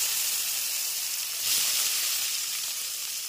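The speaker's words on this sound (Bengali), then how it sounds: "এরপরে আমি প্রথমে আগে আলুটা ভেজে নেব" Potatoes fry in hot oil seasoned with turmeric and salt, giving a steady bright sizzle and hiss that swells slightly midway, with no talk.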